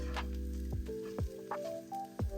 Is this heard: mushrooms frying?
yes